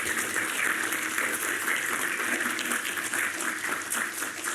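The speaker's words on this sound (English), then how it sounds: "let's give a round of applause to all of them." An audience at a game school expo gives a steady round of applause to an industry experts panel, the clapping dense and continuous from start to finish with no talk.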